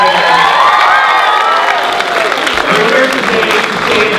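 Loud, sustained applause from a large crowd mixed with cheering and shrill shouts, continuing throughout.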